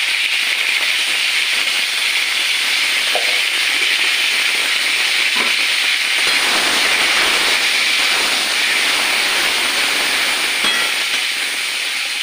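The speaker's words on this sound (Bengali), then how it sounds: "এই পটলগুলো আমি সাদা চাপা দিয়ে ভাজবো।" Pointed gourd (potol) pieces salted and dusted with turmeric frying in a pan, giving a steady, loud, continuous sizzle and hiss throughout, with no voices.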